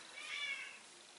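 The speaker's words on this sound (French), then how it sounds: "Ça c'est le chat qui veut rentrer dans ma pièce." A house cat meows insistently outside a room, wanting to be let in; one drawn-out, fairly close meow that swells in the middle and fades, heard alone in a quiet indoor space.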